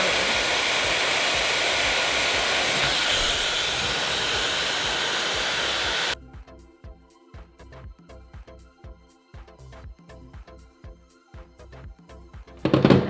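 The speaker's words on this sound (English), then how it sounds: "that right there is how I can go and get away from not using any other heat on my hair" A handheld hair dryer blows hair in a loud, steady whoosh for about six seconds, then cuts off abruptly, leaving quieter handling sounds and a short burst of the dryer again at the very end.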